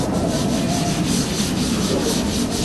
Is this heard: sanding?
yes